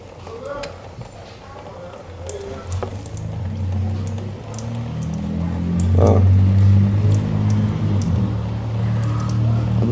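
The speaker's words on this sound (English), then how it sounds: "I'm gonna let it drain" Floodwater and oil draining from a Polaris 325 ATV engine, a steady liquid stream with wet gurgling and splashes that grows heavier, with someone talking nearby.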